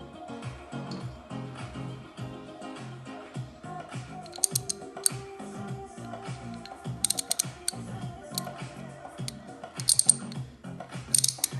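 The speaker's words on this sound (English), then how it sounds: "This is not a very good ratchet." An inexpensive hand ratchet with a socket fitted gives bursts of dry, rapid clicking close by, with short pauses between strokes and a few sharper metallic clicks.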